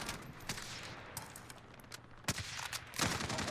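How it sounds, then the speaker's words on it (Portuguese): Gunfire in the video game Call of Duty: Warzone, a mix of single sharp shots and short bursts, with a loud close crack near the end and more firing over a steady background rumble. "Meu Deus, tô tomando tiro não sei de onde, velho."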